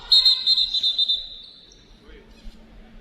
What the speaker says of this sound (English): And we get a whistle.